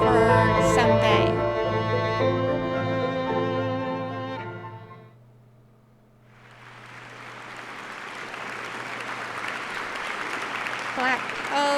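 Audience applause from the video game The Lion's Song rises after a piano melody fades, a dense sustained clapping crowd that swells and holds through the end.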